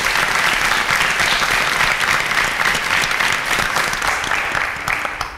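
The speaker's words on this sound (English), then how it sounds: "A round of applause for Team Mercury." A studio audience applauds a team at a televised quiz competition, a dense, loud, sustained wash of clapping that tapers slightly near the end.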